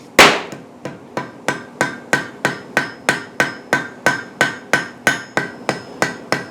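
Steady hammer blows on hot steel, forge-welding a trivet at light welding heat, ringing out about three per second in a close, regular rhythm of roughly eighteen sharp metallic strikes, each decaying quickly.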